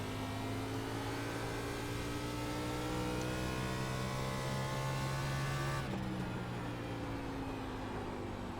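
NASCAR race cars in the iRacing sim pull away on the green flag, a loud steady engine drone with rising pitch that shifts abruptly near the end, no voices.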